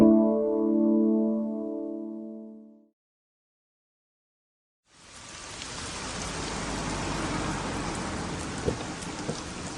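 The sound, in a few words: rain falling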